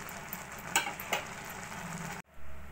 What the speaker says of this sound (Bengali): কড়াইতে তেল গরম বসিয়ে দিয়েছি